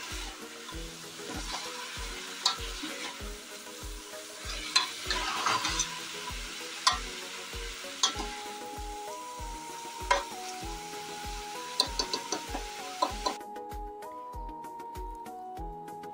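Mutton frying with onions and spices sizzles steadily while a spoon stirs and scrapes at irregular intervals, with a rhythmic low thumping and music-like tones running underneath throughout.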